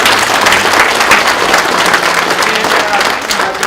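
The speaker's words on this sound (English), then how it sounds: "Give them a round of applause." Sustained audience applause fills a room at a sales team event, dense steady clapping at full volume throughout with no gaps.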